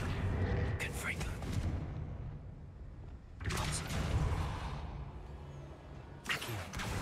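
Three loud broadband blasts burst out from a Confringo blasting spell in the Hogwarts Legacy video game, each with a sharp attack and a rumbling tail, while a voice talks between them.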